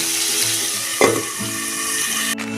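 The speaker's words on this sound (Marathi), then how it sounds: "जरा वेळ असं चांगलं परतून घ्या तेला आणि झाकून ठेवूया" Red pumpkin pieces sauté in hot oil with no garlic or onion, giving a steady, close sizzle with a brief louder stirring burst midway and a soft tonal background throughout.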